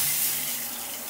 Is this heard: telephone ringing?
no